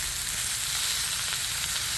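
Stir fry sizzling steadily on a hot Blackstone griddle, a close, even hiss of frying that holds constant with no talking.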